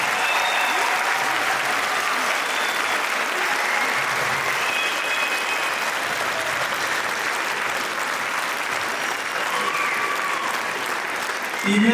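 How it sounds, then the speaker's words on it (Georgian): Sustained audience applause at a Georgian concert greets performers from Ushguli as they come to the stage, a dense, even wash of many hands clapping that holds steady for the whole stretch, close and full. "უკეთესი აპლოდისმენტებით დახვედროთ ახალს"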